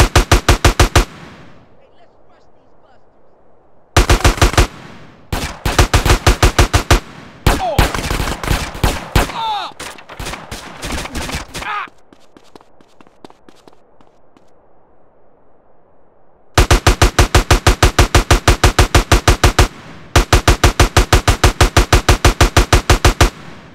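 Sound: gunfire in video game GTA San Andreas gang wars

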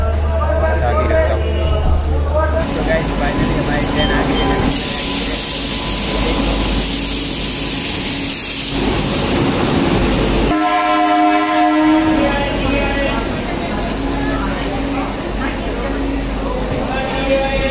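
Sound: Vande Bharat Express train arriving at Ahmedabad station, horn

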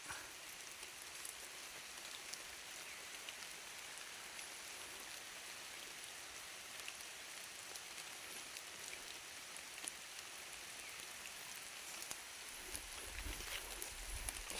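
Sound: rain falling in forest

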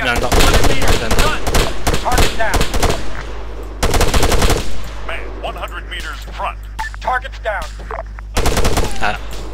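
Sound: gunfire from 200 soldiers shooting at a range, Arma 3 video game

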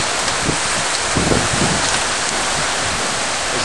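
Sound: heavy rain during storm in Houston, Texas

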